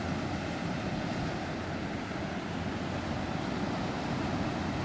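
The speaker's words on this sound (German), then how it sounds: "Die Wellen wellen sich." Sea waves washing onto the beach at Playa de Palma at night, a steady, dense roar of surf with no distinct breaks, continuous and fairly loud throughout.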